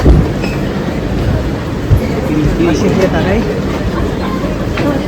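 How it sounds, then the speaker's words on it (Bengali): An airport train running, a loud, steady low rumble and rolling drone filling the space, with a person speaking briefly over it. "অনেক দিন পরে এয়ারপোর্টের ভিতরে ট্রেনে উঠতেছি"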